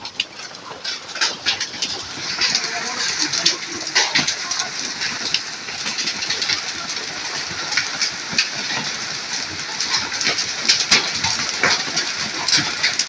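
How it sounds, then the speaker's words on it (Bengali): Hail falls during a heavy downpour, a dense, loud, steady hiss of rain with sharper scattered pattering hits throughout and no talking. "খুব জোরে জল হচ্ছে, আকাশ থেকে শিল পড়ছে দেখুন।"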